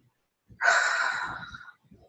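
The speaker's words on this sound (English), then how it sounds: "So we take a Grammy breath" One slow, deep breath drawn in and released in a quiet room, a soft airy rush that swells and then fades over about a second, alone and close.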